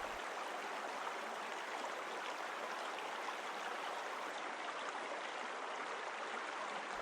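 Water of a flowing river stream at a riverbend, an even, constant hiss and rush heard alone, unchanging from start to finish.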